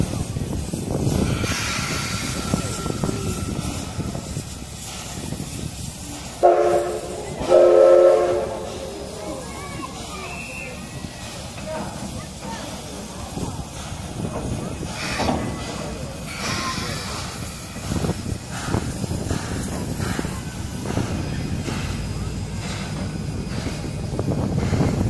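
Taiwan Railway steam locomotive CK124 reverses into a roundhouse engine shed, with a steady hiss and rumble throughout, a short loud whistle-like burst near the start, and people talking nearby.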